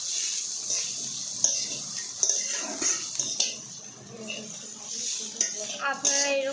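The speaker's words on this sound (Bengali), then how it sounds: "এখন আমরা চিচিঙ্গাটা ঢেলে দিয়েছি" Snake gourd frying in a pan, light sizzling under repeated clinks and scrapes of a utensil against the pan, with a faint voice near the end.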